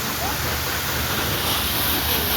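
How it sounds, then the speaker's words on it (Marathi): Water spraying onto cars during a wash gives a steady, loud, even hiss of rushing spray that runs unbroken throughout. "पाणी मारतोय गाड्यांना."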